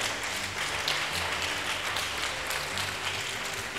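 A church congregation breaks into sustained applause during a service, dense and even clapping from many hands filling the room for a few seconds.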